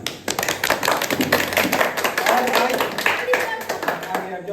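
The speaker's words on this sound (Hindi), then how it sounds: "और आदित्य के लेल एगो ताली" Hand claps ring out across the room, a brisk run of sharp taps with a voice talking over them throughout.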